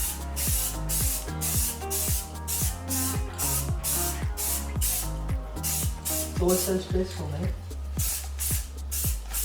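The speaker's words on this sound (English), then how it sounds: "So basically, guys, we're putting the primer on now." Spray can applying primer to a car body in repeated short bursts, each a loud hiss with pauses between, while people talk over it.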